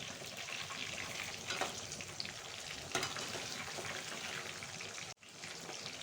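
Street-style chicken pakoda deep fries in hot oil at a roadside shop, a dense, continuous crackling sizzle heard up close with small pops and no voices.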